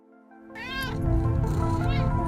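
A cat meows loudly and insistently, a long drawn-out yowl that wavers in pitch and runs almost the whole time, close up over a low background hum.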